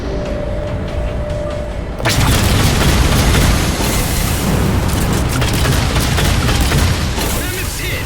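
A loud, heavy explosion slams into the Mammoth vehicle in Halo 4, erupting suddenly after a quieter stretch of rumble and gunfire, then roaring on as a dense, sustained blast and battle din with voices over it.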